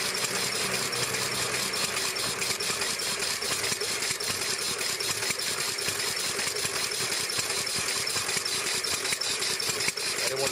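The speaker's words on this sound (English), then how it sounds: "the cylinders fire with the sharp, uneven sound typical of early internal combustion machines" An early internal combustion engine, belt drive feeding a chain transmission to the rear wheels of a vintage automobile, runs steadily with sharp uneven cylinder firing, a continuous close rattling chug throughout.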